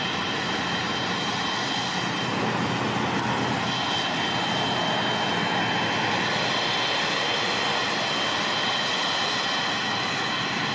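Air New Zealand Boeing 777-300 taxies after landing at Auckland, its jet engines producing a loud, continuous broadband roar and whine up close, with no talking.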